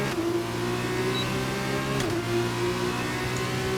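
Formula 2 race car engine in the F1 2021 video game, a sustained high-pitched engine whine holding a steady tone with a brief shift midway, loud and without talk.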